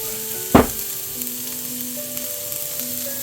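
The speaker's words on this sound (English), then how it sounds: "So in goes the onions." Onions drop into hot oil for a soup, setting off a sharp burst of sizzling that settles into a steady, softer frying hiss, heard alone with no talk.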